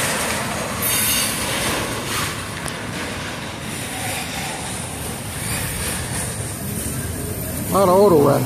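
A freight train hauling many auto rack cars rolls through the Sylvan Road grade crossing at Oakland Junction with steady rumbling wheels and squeals, close and loud, while a person speaks briefly near the end.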